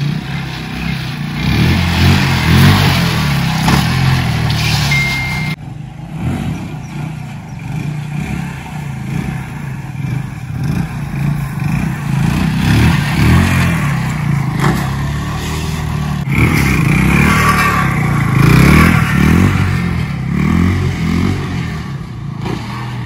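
TVS Apache motorcycle engine revs repeatedly during stunt practice, rising and falling in loud close bursts with mechanical clatter and no talk.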